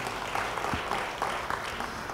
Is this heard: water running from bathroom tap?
no